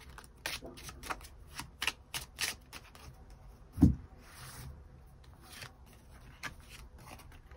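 Tarot cards being shuffled and drawn on a table, a series of quick crisp riffling and sliding snaps followed by a soft thump, close and fairly quiet.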